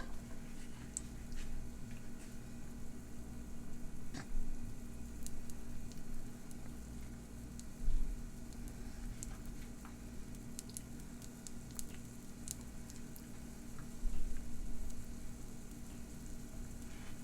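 A stuffed pancake with meat filling cooks in a pan with a steady low sizzle and soft crackling pops throughout, fairly quiet and without speech.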